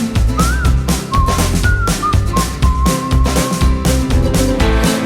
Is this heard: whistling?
yes